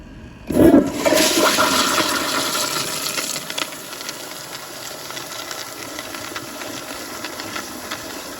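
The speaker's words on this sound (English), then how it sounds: "this just definitely has a pretty aggressive flush" A Kohler Sandbar toilet with a Wellcomme flush fires an aggressive, close-up flush, a sudden loud rush of water that settles into a long steady hissing refill.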